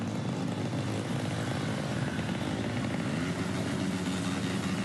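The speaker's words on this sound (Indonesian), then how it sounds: "Dengan menggunakan knalpot brong, mereka berputar-putar sekitar alun-alun" Motorcycles fitted with loud modified knalpot brong exhausts circle a town square, producing a continuous dense engine roar that stays steady and loud throughout, with no voices.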